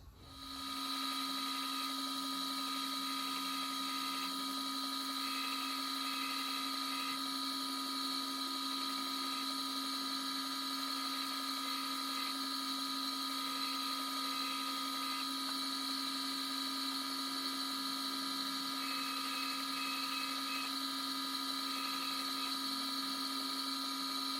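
Abrasive sanding of a knife's gut hook with a 220 grit belt, a steady continuous high-pitched whine with a constant motor drone, running unbroken for the whole stretch with no talking.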